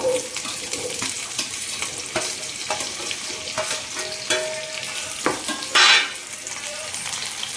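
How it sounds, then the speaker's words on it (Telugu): Chopped ivy gourd (tindora) sizzles in hot oil in a kadai, a steady close frying hiss broken by clicks and scrapes of stirring and one brief louder burst, with no talk. "ఆయిల్ కొంచెం హీట్ ఎక్కిన తర్వాత కట్ చేసి పెట్టుకున్న దొండకాయలను కూడా వేసుకోవాలి."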